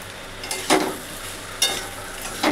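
Pumpkin and prawns being sautéed in a pan for a Bengali dish, with a soft steady sizzle under three separate scraping stirs of a spatula, close and moderately loud, no voices.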